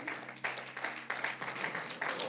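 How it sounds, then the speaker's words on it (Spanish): A church congregation applauds during a discipleship service, a steady moderate patter of many hands with rhythmic surges, fairly faint and heard without speech. "Dele un aplauso al Señor, aleluya."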